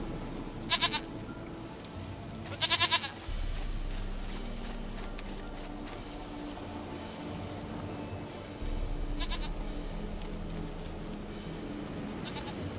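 Goat bleats in the video game The Witcher 3 sound in a few short quavering bursts, one early and a double bleat soon after, over a constant game ambience with low droning background.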